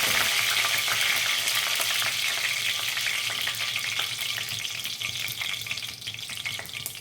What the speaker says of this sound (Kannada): ಸಾಸಿವೆ ಚಟ್ಪಟ ಅಂದಾಗ ಸ್ವಲ್ಪ ಕರಿಬೇವು